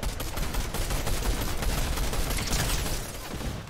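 Rapid bursts of gunfire in Fortnite, dense overlapping shots cracking steadily for a few seconds at close to medium distance, then easing off briefly at the end, with no talk.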